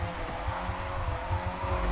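A stock Mazda Miata at speed on a track in the Forza Horizon racing video game, its engine droning steadily with pulsing low rumble and a faint hint of tyre noise, loud and close with no talk.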